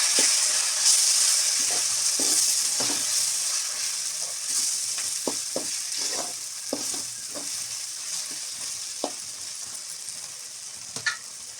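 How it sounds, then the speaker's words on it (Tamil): Spices and chilli powder sizzle in a pan for a garlic pepper curry, with a steady frying hiss. A spoon stirs through them with intermittent scraping taps, close up and with no talking. "எல்லாமே போட்டு வதக்கணும்"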